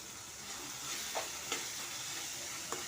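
Chillies and turmeric fry in a pan while being stirred for a potato dish, a steady close sizzle with a few soft scraping clicks from the spoon, no talking.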